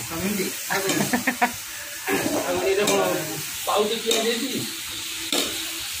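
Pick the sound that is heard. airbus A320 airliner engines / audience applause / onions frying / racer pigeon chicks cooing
onions frying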